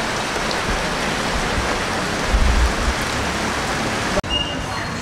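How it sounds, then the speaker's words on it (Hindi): Heavy rain pours down steadily on a street near a local market in Bali, a loud, even hiss of falling water that fills the scene, with a short break and a soft thud near the end. "बहुत ज़ोर की बारिश हो रही है यहाँ पे"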